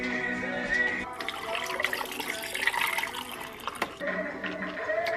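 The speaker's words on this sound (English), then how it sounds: "But I'm gonna pour it over ice and it's gonna be good and it's healthy." A healthy drink pours over ice in a glass, a close liquid gurgle with crackling ice lasting a few seconds, with a brief clink partway through.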